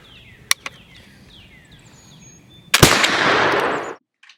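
Track of the Wolf Bucks County kit flintlock rifle fires outdoors: a sharp snap, then a loud, close, rushing blast that lasts about a second, with birds chirping faintly beforehand.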